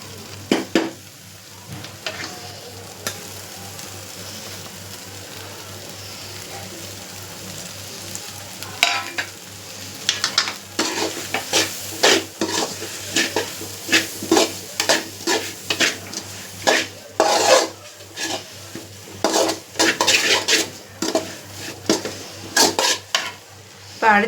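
Masala sizzles steadily in a pan while a spoon stirs and scrapes against the metal in frequent irregular strokes, close and fairly loud, with no talking.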